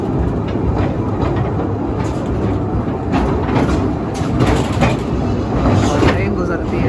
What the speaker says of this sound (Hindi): और ट्रेन गुजरती है।